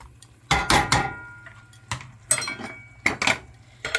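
A metal lid set onto a cooking pot of Guyanese seim curry, a series of sharp clanks and rattles in irregular clusters, close and fairly loud against a quiet background.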